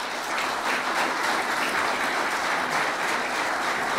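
An audience at a ceremonial city council session for Buzet's Day of the City claps in warm, sustained applause, a dense even patter from many hands with no talk over it.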